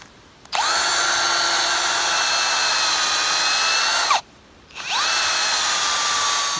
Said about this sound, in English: drill a hole with my handy